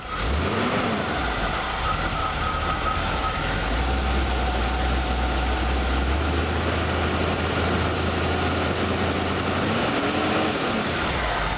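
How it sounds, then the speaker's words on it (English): An old 1949 Chevy 4x4 engine idles steadily as it warms up, a continuous loud low rumble with an uneven, slightly lumpy note and no voices over it. "there's the old engine. Doesn't run too bad. Starting to warm up."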